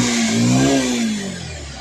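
A Bajaj Pulsar 150 BS6 motorcycle engine, fixed after a starting problem, revs up from idle, its pitch rising and then falling back as the throttle eases. The sound is loud and close, with no talk.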